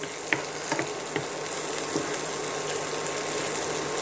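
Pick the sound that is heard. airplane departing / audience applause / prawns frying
prawns frying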